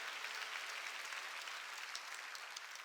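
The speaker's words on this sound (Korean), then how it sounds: "박수로 하나님께 영광 돌려야 하니" A church congregation claps to give glory to God, a dense, steady wash of applause from many hands that carries on evenly throughout.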